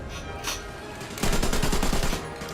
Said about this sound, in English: Trying to shoot the MG to see if we can hit anyone